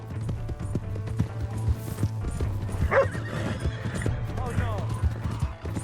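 A horse in the Red Dead Redemption 2 video game trots with steady clip-clopping hooves and lets out a whinny midway, under a low steady rumble, while voices speak briefly over it.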